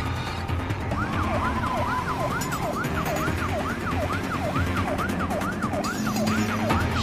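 An ambulance siren wailing in a rapid, repeating up-and-down cycle, loud and continuous over road and engine noise, with no talking.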